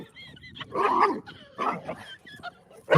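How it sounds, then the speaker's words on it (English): A puppy barking close by, in a few short yips and whimpers separated by brief pauses, with quiet background sound between them. "Oh, that was a puppy."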